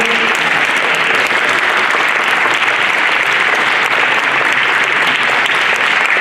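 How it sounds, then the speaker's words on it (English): Loud, steady applause from a large audience at a Martin Luther King Jr. memorial celebration, sustained clapping for a speaker that fills the whole stretch without pause. "give another round of applause for our wonderful, engaging speaker"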